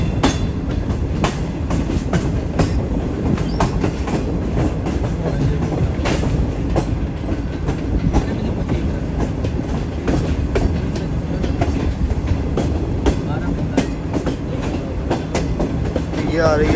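Green Line Express passenger train rolling toward Kotri Junction, a loud, steady rumble of wheels and carriages with rhythmic clatter heard from on board throughout.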